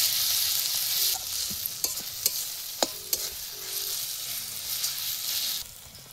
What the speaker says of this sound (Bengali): আদা রসুনটা দিয়ে আমরা ভালো করে কষাবো যতক্ষণ না তেল ছাড়বে